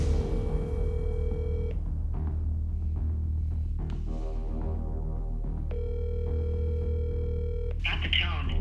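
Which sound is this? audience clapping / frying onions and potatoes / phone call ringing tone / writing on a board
phone call ringing tone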